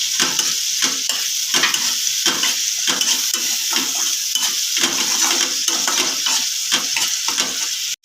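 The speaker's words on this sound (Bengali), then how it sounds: "পেঁয়াজ থেকে তেল ছেড়ে গেলে দিয়ে দিচ্ছি টমেটো বাটা" Tomato paste fries with onions in oil, giving a loud, close, continuous sizzle broken by frequent rhythmic stirring scrapes and light clinks of a spoon against the pan.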